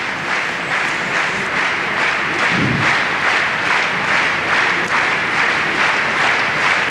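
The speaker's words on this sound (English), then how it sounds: "German crowd trying to get behind him, but it's actually a little bit off-putting when they're clapping like that." A German crowd claps steadily at the 1991 world climbing championships in Frankfurt, a broad, continuous wash of applause held at one even level for the whole stretch with no voices standing out.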